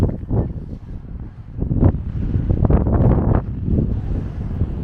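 Steady wind buffeting the microphone on the white cliffs of Normandy, with gusty low rumbles that rise and fall throughout, no other clear sounds.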